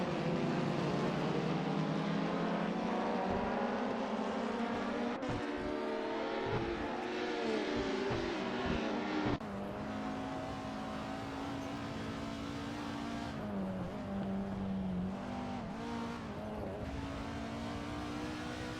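Virtual BTCC touring cars racing at Zandvoort in a video game, engines droning and rising in pitch through the gears, a sudden shift partway through as another car's note takes over, steady and moderately loud with no voices.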